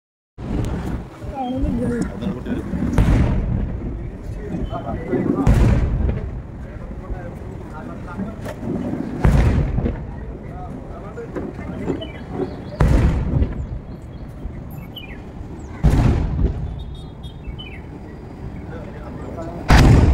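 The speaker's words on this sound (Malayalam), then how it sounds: "എന്നാലും നമുക്ക് ആ വെടിക്കെട്ടൊക്കെ ഒന്ന് കണ്ടാലോ." Fireworks at the Thrissur Pooram festival boom in about six loud, heavy blasts spaced a few seconds apart, with a rumbling crowd and background noise filling the gaps between the bursts.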